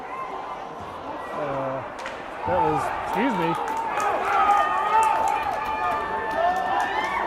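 Hockey crowd at a Cheyenne Mountain Red Tail Hawks versus Steamboat Sailors game yelling for an offsides call, a sustained arena roar that swells midway, with skate and stick noise and a nearby voice talking over it.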